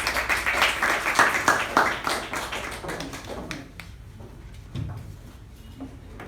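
Small audience at a Toastmasters club meeting clapping to welcome the club's past president, a close room-scale round of applause that thins into scattered claps and quiet shuffling.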